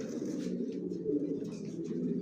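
Johnson line racing pigeons in a loft cooing close by, a continuous low throaty warble that rolls on without pause.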